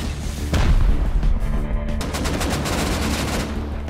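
Gunfire in a shooter video game during a charity streamer tournament, a dense burst of loud, rapid shots beginning about half a second in and continuing as sustained, fairly close firing to the end.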